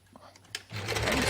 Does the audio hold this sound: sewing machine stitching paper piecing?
yes